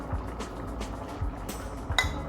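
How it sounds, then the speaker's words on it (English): Water is added to soup mix in a bowl, a faint pour with light clinks of the bowl and utensils. "And we're going to dissolve that with some water."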